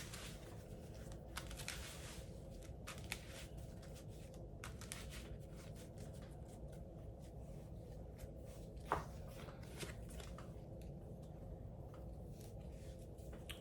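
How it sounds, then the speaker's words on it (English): Harry Potter trading cards are shuffled by hand, with soft rapid riffling and flicking bursts recurring close up over a quiet room background. "and I'll shuffle these up"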